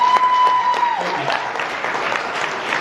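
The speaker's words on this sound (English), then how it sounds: "Give a round of applause." Wedding guests break into applause at a reception toast, a close, lively burst of clapping and cheering lasting a few seconds, with a tone briefly ringing at the start.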